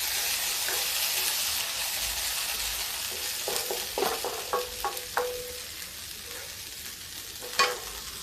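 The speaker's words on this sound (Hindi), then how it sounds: "अब ये ऐसे ही धीरे धीरे उलट पलट के हम सेक लेंगे" Potatoes and ridge gourd peel roasting in a pan, a soft continuous sizzle broken by a run of spatula taps and scrapes as they are slowly turned over, close and without talk.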